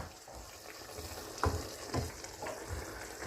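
Pork fries in a pan with a soft, steady sizzle, broken by a few scraping stirs of a utensil against the pan, close by and fairly quiet, with no talking.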